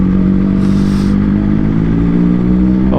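A BMW HP4 Carbon motorcycle passing close by, a loud revving engine rising and falling with a brief whoosh, heard over the steady drone of another running motorcycle.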